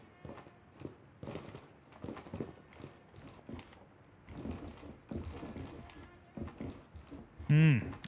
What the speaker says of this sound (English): I hear your footsteps though.